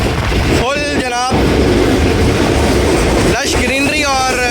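A ZCO P30 diesel locomotive hauls a passing train, producing a loud, steady rumble and rattle. The train's horn sounds twice, in two brief wavering blasts.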